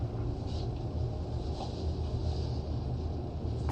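Deep, steady rumble of space shuttle engines throttling down during launch, a continuous loud low roar with no breaks.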